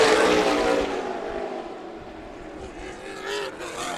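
Race cars roar past at Colorado National Speedway during a SPEARS Southwest Tour Series event, a loud continuous engine blare that swells and fades as the field passes, with no voices over it.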